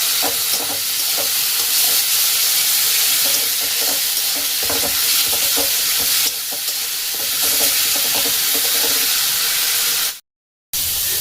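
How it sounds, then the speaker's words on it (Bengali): Onion and tomato fry loudly in a pan with cumin, ginger, green chili paste, salt and turmeric: a dense continuous sizzle with steady stirring scrapes, cut off abruptly near the end. "এইভাবে ভেজে নিতে হবে পেঁয়াজ আর টমেটো।"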